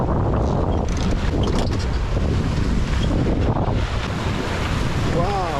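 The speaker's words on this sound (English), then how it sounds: "So the wind picked up, and it seems like we have some perfect conditions for the gennaker" Strong wind buffeting the microphone on a sailboat flying a gennaker in Icelandic waters, a loud constant roar mixed with rushing water and waves and no clear speech.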